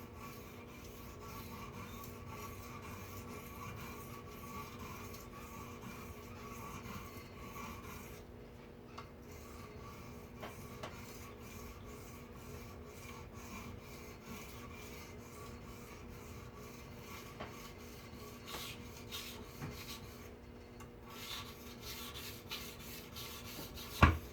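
A knife blade is honed on a stone with honing solution, giving faint, repeated scraping strokes in a steady rhythm with a sharp tap at the very end.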